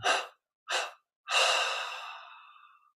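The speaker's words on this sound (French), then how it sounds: "Puis on prend une inspiration profonde, suivie de 3 expires de cette manière." Three breathy exhalations during a guided meditation, the first two short and evenly spaced, the last a long sigh-like outbreath that slowly fades, close and clear against silence.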